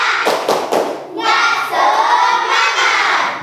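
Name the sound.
class doing a rhythmic spirit clap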